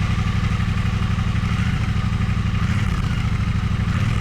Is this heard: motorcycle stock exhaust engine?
yes